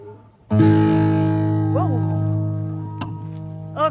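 Cigar box guitar run through a Joyo amp on its metal distortion setting, a heavy buzzing sustained chord struck once and left ringing with a few slides and string squeaks, loud and close.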